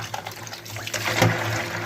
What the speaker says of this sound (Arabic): وهغسله كويس جدا. بعد كده هسيبه منقوع بقى في الميه